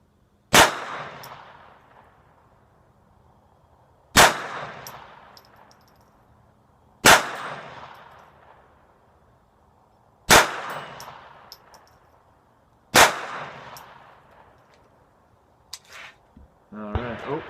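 Walther PPK/S .22LR pistol fired standing at a paper target, five sharp, loud cracks spaced about three seconds apart, each with a short ringing decay, followed by faint handling noises.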